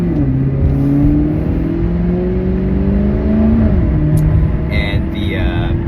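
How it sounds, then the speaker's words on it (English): Maserati GranTurismo MC with a naturally aspirated V8, its exhaust rising and falling in loud, close revs inside the cabin, pitch climbing then dropping, with someone speaking over it briefly. "obviously this incredible engine, and specifically the incredible exhaust note"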